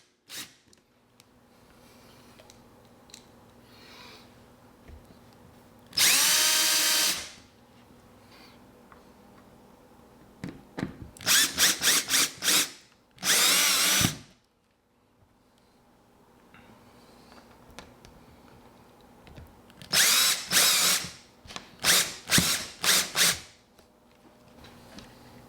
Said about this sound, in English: We'll start with the rubber feet by screwing them into the holes we drilled earlier.